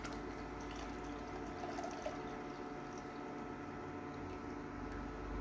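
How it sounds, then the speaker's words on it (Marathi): Lentil cooking water for amti poured into hot oil, giving a steady, continuous hiss and splash of liquid that runs close and fairly loud for the whole stretch. "आता हे डाळीचं पाणी टाका."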